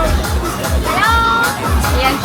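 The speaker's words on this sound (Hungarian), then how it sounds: "délután fél egyre azért megérkezett a tömeg is, kezd benépesülni" A crowd gathering in early afternoon in Bangkok, steady dense hubbub of many voices chattering nearby with no single speaker standing out.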